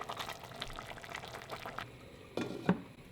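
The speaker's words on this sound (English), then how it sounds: "Cover and leave simmering for about 25 minutes." A covered pot of rice with chopped spinach simmers quietly, a soft steady bubbling close by, with a couple of brief clinks near the end.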